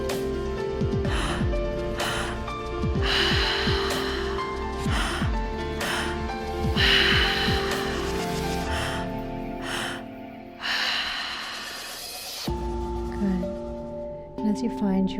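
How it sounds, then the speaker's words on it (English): Deep three-part breaths drawn in and pushed out through the mouth, close and airy, rising and falling in several long cycles with a soft drone underneath. "we're going to be practicing a 3-part breath today"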